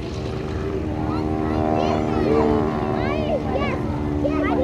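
A Starduster biplane's propeller engine drones steadily at an airshow as it comes in to land, a sustained even hum with a slight swell in the middle, while a voice talks over a public address system.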